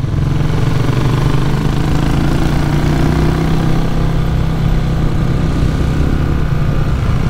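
A Cafe400 motorcycle engine runs steadily and loudly throughout during a group mountain ride near Baguio, with a constant low rumble and no break or audible pass-by swell.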